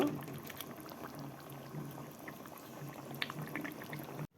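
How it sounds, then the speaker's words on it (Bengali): A pot of liquid bubbles at a steady boil while fish is being cooked, a dense close simmering hiss with soft popping throughout, then cutting off abruptly at the end. "এখন আর বেশিক্ষণ ফোটাবো না অল্প কিছুক্ষণ ফুটিয়ে নামিয়ে নিব"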